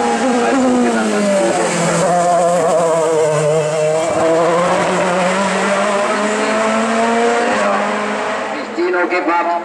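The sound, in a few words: race car at a hill climb race, tires squealing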